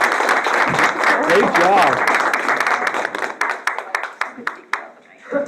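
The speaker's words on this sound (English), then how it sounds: "another round of applause" An audience at a community education council meeting claps in a loud, steady ovation that thins into scattered, separate claps toward the end, with a voice briefly speaking over it.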